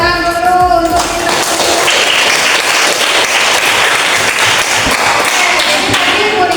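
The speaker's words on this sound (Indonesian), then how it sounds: "Tepuk tangan dulu untuk kita." Classroom applause after group presentations, a dense patter of clapping hands filling the room close by with speech-like voices mixed in from the first second.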